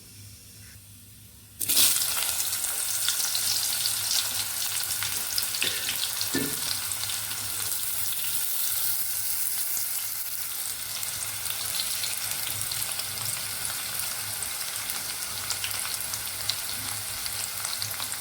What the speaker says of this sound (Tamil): நல்லா எண்ணெயிலேயே பாவக்காய் ஒரு 2 நிமிஷம் வேகட்டும்